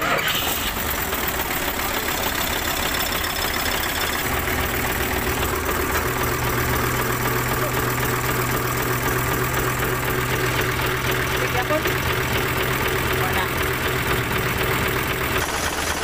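Isuzu 10PD diesel engine idling with its breather hose removed, a steady loud knocking drone that runs continuously and unchanged for the whole stretch, close up, with no talk over it.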